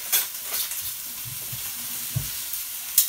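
Meatballs cook down in a pan with a soft continuous sizzle, under a few quiet clinks and stirring scrapes. The sound is fairly faint and steady, with no voices.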